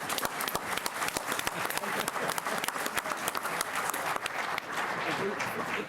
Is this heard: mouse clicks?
no